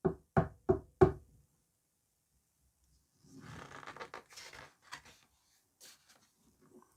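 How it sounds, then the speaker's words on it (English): Four sharp knocks on a wooden door in quick succession, close and clear, followed by quieter scuffling and shuffling sounds. "Called Daddy Pig, knocking at the door."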